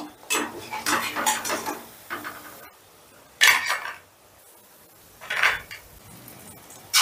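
Fried mung dal fritters are lifted from a pan of oil with a metal utensil, giving several sharp scraping clinks and clatters of metal on the pan, separated by quiet gaps, with faint sizzling underneath.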